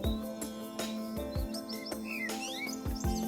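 Birds in Vrindavan chirp and tweet in short rising and falling notes, fairly close and lively, over a constant low drone and a series of soft, regular low thuds; no talking.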